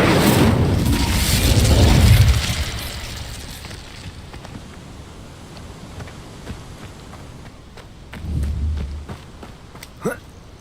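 Fiery spell blasts in Hogwarts Legacy: a loud roaring burst at the start fades into a crackling tail, followed later by a second, smaller whooshing flare.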